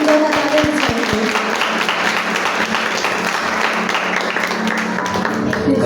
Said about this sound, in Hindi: इस चर्च के लिए जोरदार तालियां बजाएंगे।